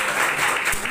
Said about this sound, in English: did you clap?